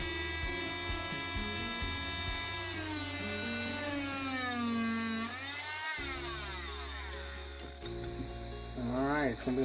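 A power tool cutting out rotten wood on a boat whines steadily with a rising and falling pitch as the load changes, close and fairly loud, then cuts out and restarts briefly near the end.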